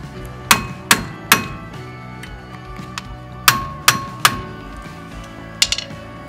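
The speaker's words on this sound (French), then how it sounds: "Serrez les vis de maintien à l'aide du tournevis à frapper." A hammer strikes an impact screwdriver to tighten the brake disc retaining screws on a Peugeot 308, giving sharp, close metallic blows in small irregular clusters of two or three, with ringing decay between them.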